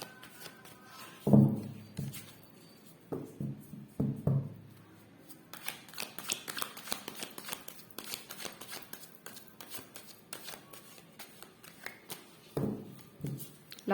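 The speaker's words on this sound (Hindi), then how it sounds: "लास्ट शफल, उसके बाद हम लोग कार्ड्स निकालेंगे।" Tarot cards shuffled by hand, a few crisp riffling bursts and taps near the start and again at the end, with quieter card handling and rustling in between.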